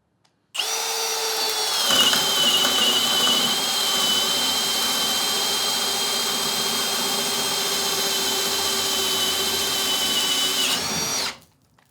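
Milwaukee hammer drill spinning through a timed test, starting abruptly and running at a steady, loud, high-pitched whine for about eleven seconds, deepening slightly in pitch just after start-up, then cutting off cleanly.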